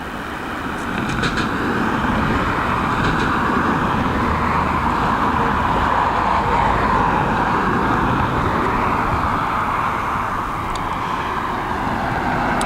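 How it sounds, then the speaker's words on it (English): A Qatar Airways Boeing 777 departs Dublin Airport on a windy day, a steady, loud broadband jet roar holding throughout with no break and no voices. "We will be making sure we get this one's departure because we very, very rarely see a 777"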